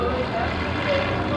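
A privately built World War I-style biplane at a 2003 airshow in New York, powered by an original 175-horsepower Ranger engine, drones steadily and loudly, with a voice talking over the engine sound.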